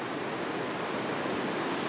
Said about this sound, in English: Man, it's getting windy.